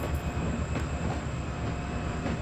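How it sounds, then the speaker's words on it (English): An empty coal train rolls away from a power plant after unloading, a continuous heavy rumble of wagons and wheels on rail with a faint high squeal running through it. "there's a coal train leaving the power plant. It's just unloaded its coal."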